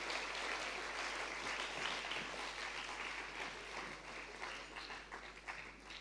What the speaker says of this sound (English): A loud round of applause first for the little ones.